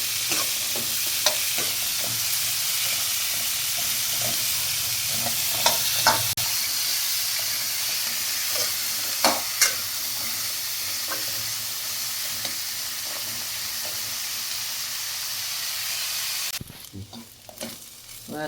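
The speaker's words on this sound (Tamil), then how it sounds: "நல்லா சின்ன வெங்காயம், நல்லா வறுக்கலாம். நல்லா வறுக்கணும்." Small onions frying and being stirred in a pan for a country chicken curry, with a steady loud sizzle throughout, punctuated by scattered spoon scrapes and clicks, then a sudden drop near the end.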